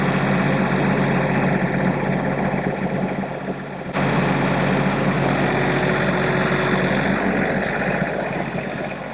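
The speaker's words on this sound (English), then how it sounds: "Let me move the tractor" A farm tractor's engine runs steadily near a barn, a loud, continuous low rumble with a brief dip partway through before carrying on unchanged.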